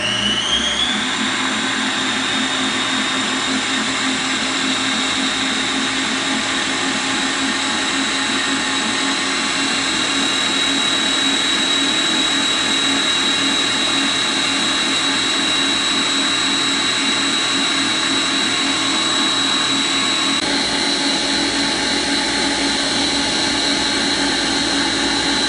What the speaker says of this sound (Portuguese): Pode ir no máximo na batedeira.